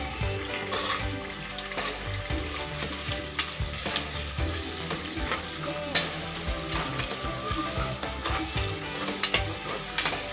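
Green beans fry in a pan for avarekalu vegetable pulao, giving a continuous close-up sizzle. Frequent scraping clatters from stirring run through it, and no one speaks.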